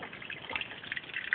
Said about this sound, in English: I'm going to pour in the chicken broth